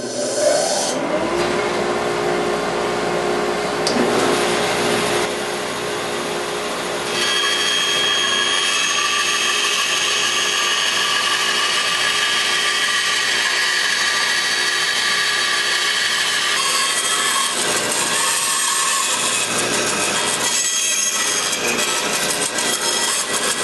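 Bandsaw slowly cutting quilt rack shapes from wood: a loud, continuous whining roar with a hissing blade, the pitch and grit shifting as the cut follows the line, close and without pause.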